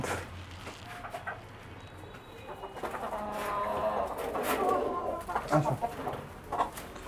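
Fancy rooftop chickens clucking in a Bangladeshi home flock, heard as scattered soft clucks and bird calls over quiet ambient noise, with faint voices in the background.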